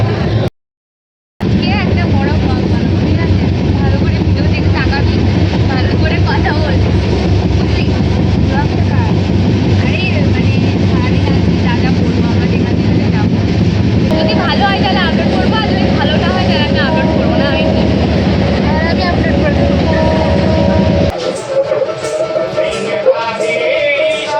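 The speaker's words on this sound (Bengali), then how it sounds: "ট্রেনও প্রায় চলে এসছে এই কাছে স্টেশন হওয়ার ফল আর কি" A train arriving at a station gives a loud, steady rumble that runs for about twenty seconds, with people talking nearby, then drops away near the end.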